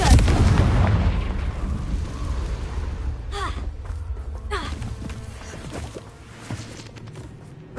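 A Confringo blasting spell in Hogwarts Legacy on PS5 lands as a deep booming blast that rumbles and fades, followed by a few sharper crackling impacts and some faint voice sounds.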